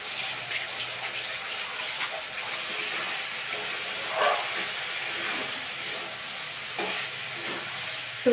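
Meat frying in a pan with lemon and curry leaves added, a steady close hiss of sizzling throughout with a few brief louder bursts of spattering.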